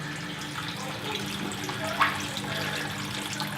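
Water runs steadily from a car's water feature, a soft continuous trickle and hiss with a faint splash partway through, fairly quiet and heard alone.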